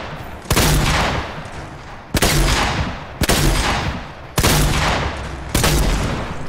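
Loud bursts of rapid gunfire in Fortnite come in five separate volleys, each a sharp crack trailing into rattling echo, close and harsh.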